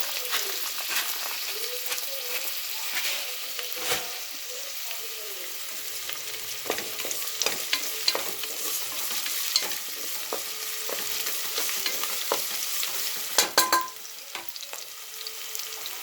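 Onions softening in a pan with rock salt, ahead of amaranth leaves and moong dal, give a steady soft sizzle with occasional stirring scrapes and a few louder clicks near the end, with no talking.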